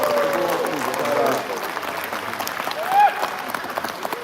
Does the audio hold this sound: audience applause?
yes